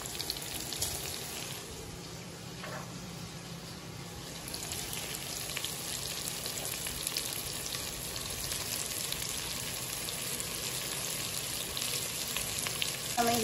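Calabresa sausage frying in a pan gives a steady, dense sizzle that holds for the whole stretch, with light crackle and the odd stir or scrape near the start, fairly close and without speech.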